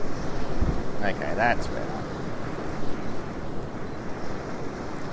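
Wind-blown ocean waves at Currumbin Beach, Queensland, a continuous roar of surf and gusting wind across the microphone, with a brief spoken remark near the start.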